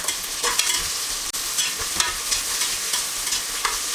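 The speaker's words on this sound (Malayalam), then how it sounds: "ഒരു 2 മിനിറ്റ് ഈ സവാള ഒന്ന് വഴറ്റി കൊടുക്കണം" Sliced onions stir-fried in a pressure cooker for vegetable biryani, with a continuous close sizzle broken by repeated scraping strokes of a spoon against the pot.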